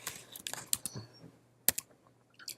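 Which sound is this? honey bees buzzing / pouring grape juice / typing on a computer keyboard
typing on a computer keyboard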